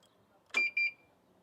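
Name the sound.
keyless activation beep of Kymco scooter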